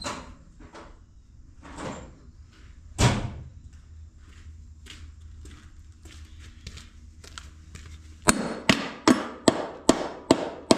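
Hammer smacking a hard object in a workshop: a few scattered knocks at first, then a fast run of seven or eight sharp, loud, evenly spaced blows, with quieter clatter between.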